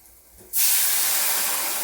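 Hot oil bursts into a loud, sudden sizzle after a quiet moment as a spice tempering for kadhi hits it on low flame, then keeps hissing steadily and close.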